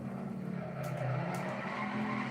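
A race car in Assetto Corsa skids and spins out, tires squealing over a steady engine drone, close and continuous with no talking.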